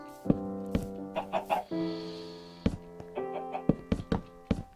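Several Minecraft chickens cluck in short, irregular bursts, mixed with sharp tapping knocks against a steady, low tonal hum.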